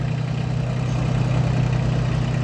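A Solis 24 compact tractor engine runs steadily nearby in Kirovohrad region, a continuous low diesel drone with a constant throb and no breaks.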